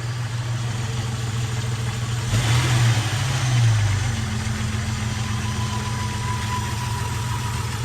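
A Jeep engine idles steadily up close, with a brief rev in the middle that rises and settles back to a low, rumbling idle.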